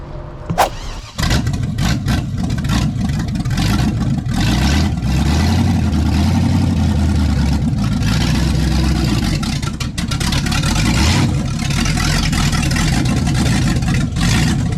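A Chevy 350 V8 swapped into a vintage Toyota Land Cruiser FJ60 runs loud and close, starting with a brief crank and then rumbling and revving in uneven surges with a deep, throaty drone.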